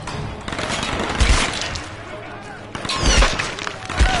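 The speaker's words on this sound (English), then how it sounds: "Where's the machine gun fire coming from?" Machine gun fire in Tomb Raider (2013), loud bursts of rapid gunshots with booming impacts and debris, clustered in waves amid chaotic game noise and voices.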